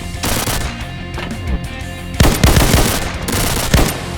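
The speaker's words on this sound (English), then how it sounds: "Oh, you got the best submachine gun, right?" Submachine gun fire in the Slendytubbies survival shooter, loud sustained automatic bursts with a dense rattling rhythm and a heavier volley midway, no talk over it.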